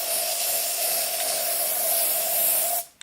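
A can of Lysol disinfectant sprays in one continuous hissing burst lasting under three seconds, close and fairly loud, then cuts off abruptly with a small click.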